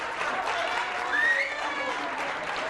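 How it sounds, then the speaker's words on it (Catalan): A studio audience on a Catalan TV quiz show applauds a school team in a dense, steady wash of clapping that stays even throughout. "Un aplaudiment per ells, si us plau."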